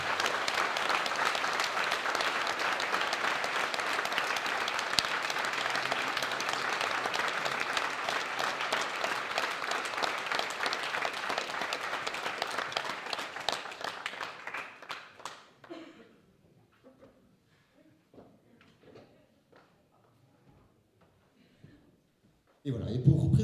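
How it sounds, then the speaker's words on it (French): A thunderous round of audience applause at a contest ceremony, dense and loud for about fifteen seconds before thinning out and fading into near silence, with a brief noise at the very end. "un tonnerre d'applaudissements pour Martine Genova à la deuxième place"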